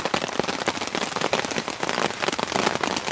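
Dense, loud rain pours onto a wilderness camp, a continuous close hiss of countless drops with sharper spatters throughout and no voices.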